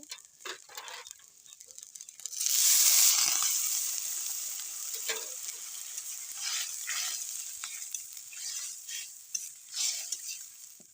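Broth pours into a pan of fried spiced vegetables, setting off a loud burst of hissing sizzle that settles into steady bubbling frying with scattered stirring clicks nearby.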